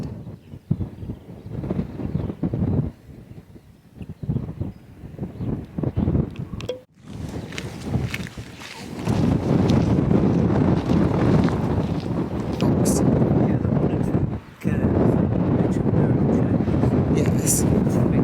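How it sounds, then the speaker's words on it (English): Very strong gale buffeting across the open heather and bracken moorland of the Long Mynd in Shropshire, roaring broadband gusts that swell to a loud sustained blast in the second half, with a voice talking in the calmer stretches. "There's still a gale. Very, very strong wind."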